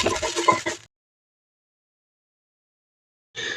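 A hen gives a short burst of clucking, falls silent for a few seconds, then clucks briefly again.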